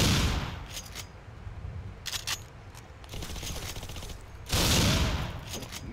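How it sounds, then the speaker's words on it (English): Shotgun fire in a combat video game, several loud blasts in separate bursts with quieter gaps between them, heard close. "Man, the shotgun is overpowered."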